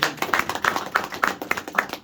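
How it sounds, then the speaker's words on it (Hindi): Hands clap in a steady, regular rhythm during a motivational training session, about seven or eight distinct claps in two seconds, close and crisp with little else behind them. "इसके लिए भी ताली चाहिए।"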